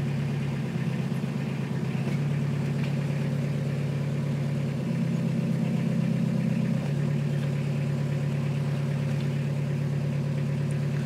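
A Suzuki Samurai engine idles steadily close by, a low, constant drone with a slight shift in tone as the gearbox goes into reverse.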